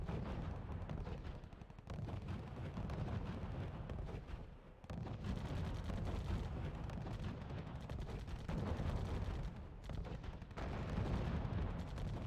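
Anti-tank guns fire in the strategy video game RUSE, with Soviet advanced AT guns in a battle, giving a dense, continuous roar of booming shots and explosions that barely lets up across the whole stretch.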